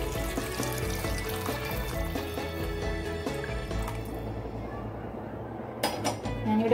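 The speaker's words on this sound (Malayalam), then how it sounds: "അതിന് വെള്ളം ഒഴിച്ച് കൊടുക്കാം." Water pours into a pan for oats upma, a close trickling and dripping stream with faint ringing tones from the vessel, ending in a few louder splashes.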